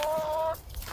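Backyard chickens cluck in a brief, close burst, a short tonal call followed by softer murmuring sounds as the birds are called over for breakfast.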